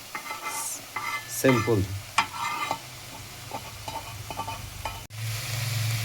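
Shrimp and pointed gourd frying in a pan while being stirred, with sizzling and repeated scraping strokes, a sharp clatter near the end, and a brief spoken word.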